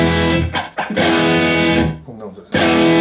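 Loud electric guitar with a thick, distorted glam tone, sustained chords and notes with brief dips, heard close and dense over its full length.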